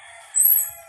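A rooster crows once, briefly and fairly close, on a rural farm among many chickens. The call stands alone over quiet background hum.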